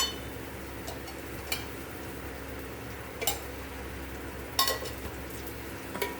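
Stuffed brinjal curry fries quietly in oil in a pan, a soft, low sizzle broken by a few sharp clinks or stirring taps, with no one speaking.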